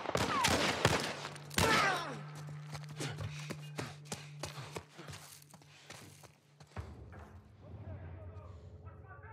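Rapid bursts of gunfire in The Last of Us Part 1, sharp repeated shots clustered early and then spaced out, with footsteps and a low game hum beneath.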